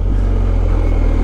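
Smooth, steady engine drone from a BMW R1250 motorcycle cruising on the road, a low continuous hum with no breaks that stays loud and even throughout.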